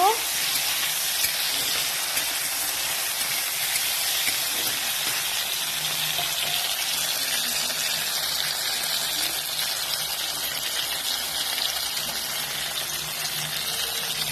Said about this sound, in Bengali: আলুটা হালকা করে লাল লাল ভাজা হয়ে গেলে আলুটাকে তুলে নিব।